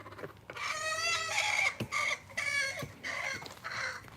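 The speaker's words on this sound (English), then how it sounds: "You hear the chickens make that noise?" A rooster on a hot rare fruit farm gives a series of loud, close, drawn-out warbling calls in separate bursts, with short gaps and a few faint thumps between, no talking.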